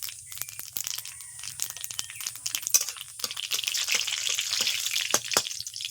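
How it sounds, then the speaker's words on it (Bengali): Black cumin seeds and a dried chili fry in hot mustard oil, giving a close, continuous sizzle with sharp crackles and pops throughout, and no voices. "আরও একবার সরিষার তেল দিয়ে দিলাম তেল গরম হয়ে গেছে দিয়ে দিলাম কালো জিরে একটা শুকনো লঙ্কা"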